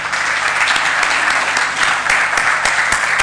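Audience at a media congress in Rwanda giving a sustained round of applause, dense and steady clapping filling the hall at close range.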